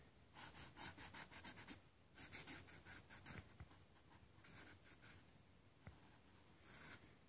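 A pencil draws lines on paper while sketching a human skull, making close, quiet scratchy strokes in a quick rhythmic series, then a second run, followed by fainter scraping and a few soft taps.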